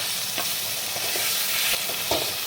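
Spice paste cooked down in oil for a fish curry with tangra fish, a loud close bubbling sizzle with soft spatters and stirring scrapes throughout, no voices.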